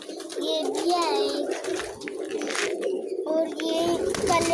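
Newborn pigeon chicks making soft, repeated squeaky peeps and coos close to the microphone, while a person talks quietly over them.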